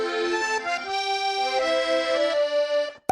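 Beat melody built from Kontakt La Passion library sounds, a bright layered synth line of sustained tones that shift pitch across a short phrase, played alone and fairly loud before cutting off abruptly.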